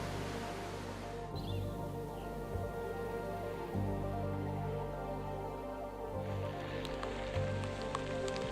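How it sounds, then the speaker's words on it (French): Hailstones falling outdoors in the Alps during a wild mountain crossing make a faint, steady pattering across the whole stretch under a low, constant background hum. "C'est des grêlons."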